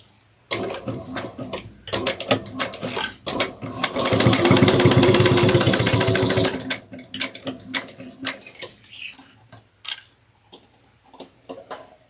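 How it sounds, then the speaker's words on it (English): A sewing machine top stitches a sling pack in short bursts of rapid ticking, then runs in one long fast clatter for about two seconds before returning to brief stop-start stitching. "then we're going to top stitch. One-eighth of an inch."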